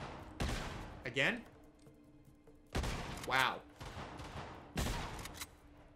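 Gunshots in Uncharted: Golden Abyss on the PlayStation Vita: three loud, sharp blasts spaced a couple of seconds apart, each followed by a short grunt or ricochet, with someone briefly speaking between them.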